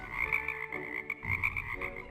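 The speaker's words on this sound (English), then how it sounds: "Then God sent frogs, millions of them." Frogs croak in a dense chorus, repeated rhythmic calls layered over one another at moderate distance.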